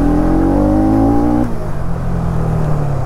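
A Bajaj Pulsar NS200 motorcycle engine, a second-hand bike, revs up with a rising steady drone, then drops pitch sharply as a gear shifts and carries on with a lower rumbling pull, loud and close.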